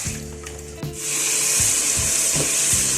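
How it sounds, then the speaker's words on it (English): Tomatoes frying in a cooking pot: a steady, bright hiss and sizzle rising after a second and holding, with a few soft knocks and scrapes beneath it. "So this is how far our tomatoes are fried."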